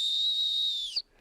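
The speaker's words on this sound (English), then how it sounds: "So when we blow that whistle and he's nice and close, we just blow it very gently." A single high, steady dog training whistle tone is blown softly for about a second, then cuts off with a brief breathy puff.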